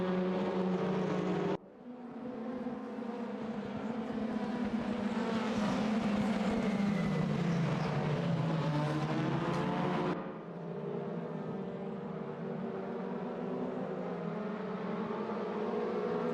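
Touring race cars of the T6 Msport Super Touring Championship roar past at the Bilster Berg circuit. The engine noise swells loud and close with pitch sweeps through the gears, then settles to a steadier, slightly softer drone.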